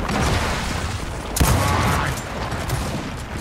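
Gears of War 4 video game combat with a sharp, loud shotgun blast standing out against steady background battle noise and rumble, one clear shot near the middle.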